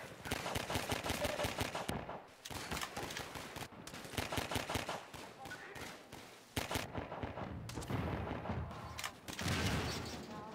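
Rapid bursts of gunfire from Half-Life 2, loud and dense with short gaps between volleys, the shots tightly clustered like automatic fire.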